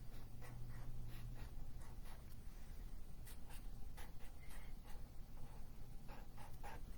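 A pen drawing stars on paper during a children's art class makes faint, repeated scratchy strokes in short rhythmic runs over a steady background hiss.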